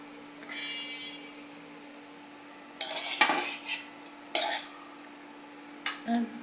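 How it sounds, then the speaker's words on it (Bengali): Rohu fish pieces, including the head, go into a pan of bean and tomato vegetable curry, giving a few soft clattering knocks and stirring scrapes over a steady low kitchen hum. "আমি এতে মাছটা দিয়ে দেব, রুই মাছ, রুই মাছের মাথা"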